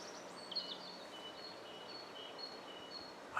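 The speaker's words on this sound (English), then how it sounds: "I don't know if you can hear it, but there's a lot of birds." Many birds sing outdoors, thin chirps and whistled phrases scattered through a quiet ambient background at moderate distance, with a slightly louder call at the end.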